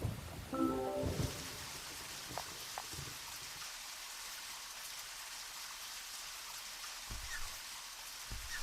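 Rain falls in the video game Deadly Premonition, a faint, steady patter and hiss that carries on alone after a brief louder burst at the start.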